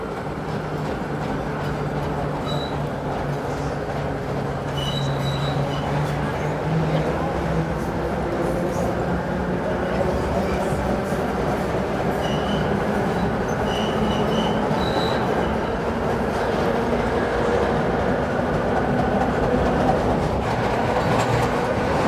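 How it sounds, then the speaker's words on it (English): Old subway cars rumble steadily along the rails, a loud continuous roar with faint clicks and occasional high wheel squeals throughout. "Just enjoying the sound of the old subway cars."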